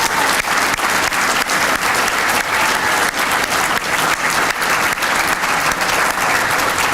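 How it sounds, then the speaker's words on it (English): Steady round of applause from the audience at an athletic trainers' awards banquet, honoring the night's winners; loud, dense clapping that holds evenly for about seven seconds with no speech. "So maybe one more round of applause for all of our winners tonight."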